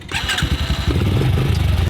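Several ATV engines crank and catch at once, a loud rumbling, revving chorus that settles into a steady idle as the four-wheelers start up for kids at a riding lesson.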